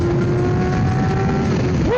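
A restored 1989 Yamaha FZR 400 motorcycle engine drones steadily at high revs while riding, loud and close, then rises sharply at the end as the throttle opens.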